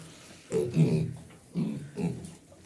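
Piglets in a pigsty give short grunts and squeals in bursts, close by and fairly soft, with brief pauses between them.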